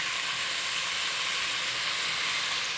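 Kashmiri chili powder sizzles steadily in a hot pan of lamb rogan josh, a continuous bright hiss with no pauses and no voices.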